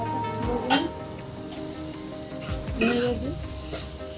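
Banana flower curry, a vegetarian Bengali mochar ghonto, sizzles steadily as it fries in a pan, with a few louder scraping stirs, close up and without talk.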